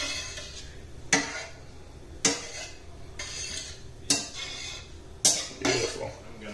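Broth and cream being mixed in a pan for coquilles Saint-Jacques à la provençale, with sharp utensil clinks against the pan at about one-second intervals over a steady low kitchen background.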